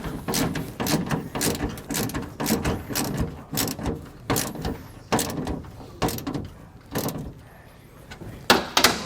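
A wrench tightening a nut on a Go Power RV converter and smart battery charger breaker, a run of sharp, close metallic clicks and ratcheting bursts in irregular rhythm with short pauses between turns.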